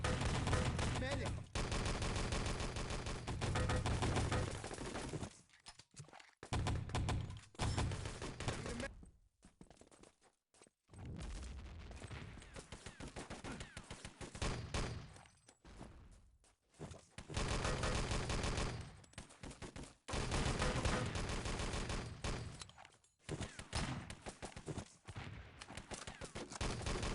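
Rapid automatic gunfire from a competitive Enemy Territory match comes in long, dense bursts broken by short pauses. It is loud and sustained, with a commentator talking over it.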